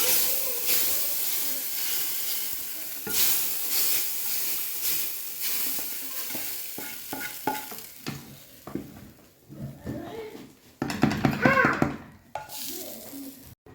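Browned fried onions hit a pot of lentil soup with a loud, hissing sizzle that rises and bubbles, then fades into quieter stirring, with someone speaking briefly before.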